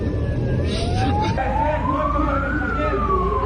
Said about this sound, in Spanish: se observa la ambulancia por la avenida Machala, que llevaba al expresidente a un hospital privado